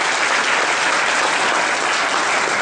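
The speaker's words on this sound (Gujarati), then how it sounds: "તાળી વગાડીને વાતને યાદ કરી" A large crowd at a temple festival for the golden spire inauguration at Vadtal Mandir claps loudly and continuously, a thick, even roar of applause throughout.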